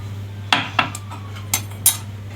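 Metal spoon clinking against a bowl while stirring fennel and anise seeds for Egyptian country-style biscuits, five sharp taps spaced irregularly over a low steady hum, no talking.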